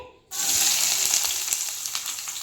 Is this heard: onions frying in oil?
yes